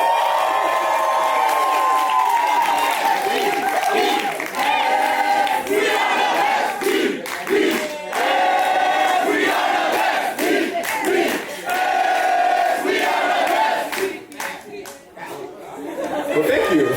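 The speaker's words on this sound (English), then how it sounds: "And a round of applause for the DBS." A large crowd at a Dutch kiki scene awards ceremony claps and cheers loudly for the DBS, with shouts, whoops and chatter rising and falling over continuous applause for a long stretch.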